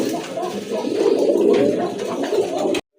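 A big male red indigo pigeon with a crest coos in a continuous low, throaty warble, close and steady, before cutting off abruptly near the end.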